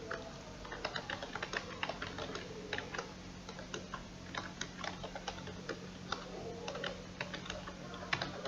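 Typing on a computer keyboard while working in Microsoft Word 2016, a quiet, steady patter of keystrokes with a few louder taps, close and alone.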